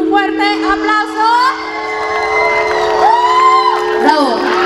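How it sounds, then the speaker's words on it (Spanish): A concert crowd at a symphonic metal tribute show cheers and whoops for a violinist, with shouts, high calls and some clapping mixed into a lively roar; voices call out over the noise. "Por favor, recíbala con un fuerte aplauso."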